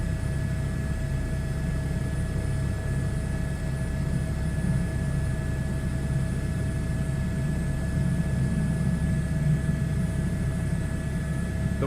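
A helicopter flies steadily in Microsoft Flight Simulator, its rotor and engine drone a constant low rumble with faint high whine tones, unbroken and without talk across the whole stretch.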